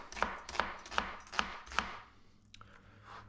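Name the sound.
knife chopping thin onion slices for burgers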